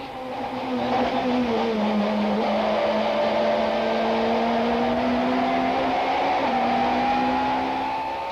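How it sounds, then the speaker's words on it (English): Super Touring race cars at Kyalami in 1995, loud high-revving engines droning past close by, with a steady rising pitch and a brief gear change as they stream through a kink. "McCleary has led Briggs from the start as the pair comes streaming through the AA kink"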